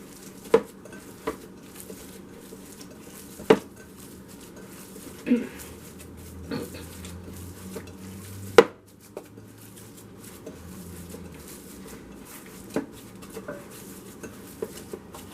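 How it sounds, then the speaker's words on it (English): A utensil scrapes and clinks against a bowl while meatball and pasta ingredients are stirred and mixed, scattered sharp knocks and taps spread over a quiet background, with someone speaking briefly at times. "Mix it up well."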